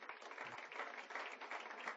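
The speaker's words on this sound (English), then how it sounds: "then we'll give you all a round of applause" Applause for an honoree at a school district foundation superintendent's breakfast, a steady faint patter of many hands clapping at a distance with no voices over it.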